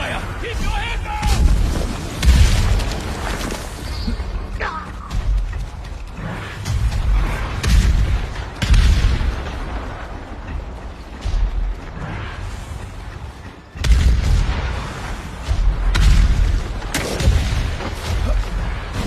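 Gunfire and heavy explosions in a video game battle, loud booms and bursts of shots repeating throughout, with a brief lull before another blast, mixed with game speech and effects.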